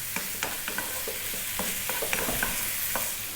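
Streaky, fatty bacon fries over medium-high heat in a pan. A steady sizzle is punctuated by frequent light spatula scrapes and taps in an irregular rhythm, close up, with no speech.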